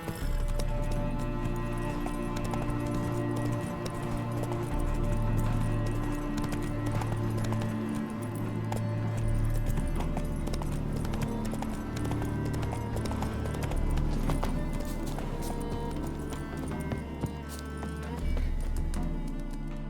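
The horse Roach in The Witcher 3 gallops in a steady run of hoofbeats, close and continuous under a loud musical score and game sounds.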